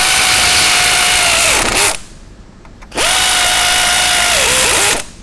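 A power tool runs in two loud bursts with a short pause between them, tightening nuts onto the strut studs of a 2016-2022 BMW 740i during a front suspension conversion kit install. Its whine drops in pitch as each nut seats.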